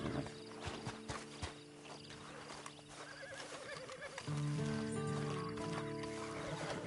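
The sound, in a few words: horse in video game Red Dead Redemption 2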